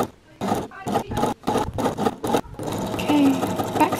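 A sewing machine backstitches the end of a polyester skirt hem in several short rapid bursts, then runs a little more steadily, close and loud, with a voice speaking briefly over the stitching.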